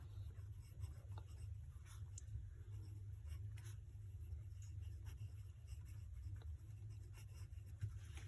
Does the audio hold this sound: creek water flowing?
no